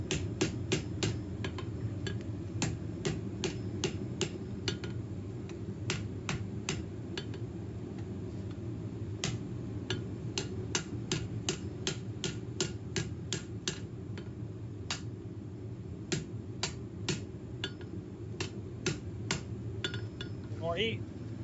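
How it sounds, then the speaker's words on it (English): Hammer blows ring out on a steel spear blank at the edge of an anvil as its corners are rolled in, sharp metallic strikes repeating in irregular bursts over a steady low background hum, fairly near. "I come to the edge of my anvil here, try and roll these corners up in."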